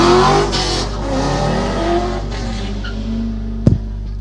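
A race car with a sequential gearbox accelerates hard at a hillclimb, its engine note loud and sustained with harmonic bands, then a sharp crack or pop near the end.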